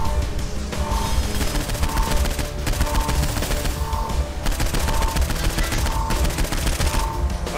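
Sustained automatic assault rifle fire in Saints Row IV, a loud unbroken rattling burst lasting several seconds with rhythmic shot patterns and no pauses.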